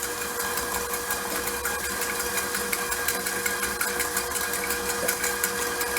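An electric mixer whirs steadily and continuously, whipping sugar in a bowl for eggless tiramisu, a constant mechanical buzz with no voices.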